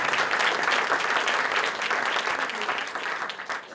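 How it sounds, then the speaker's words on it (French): Audience applause at a short film festival night, a dense, steady wash of many hands clapping close and loud throughout, easing slightly toward the end. "On peut nous applaudir, je crois."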